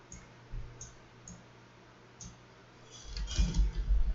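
A few sharp, isolated computer mouse clicks spaced irregularly during image editing work, followed by a louder burst of rustling handling noise near the end.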